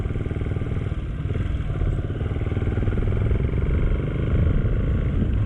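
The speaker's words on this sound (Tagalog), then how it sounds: "nakita niyo yung motor ng mama no?" Motorcycle struggling through deep mud on a logging-stripped Sierra Madre trail, a loud, close engine rumbling and revving continuously with clattering underneath and no talk.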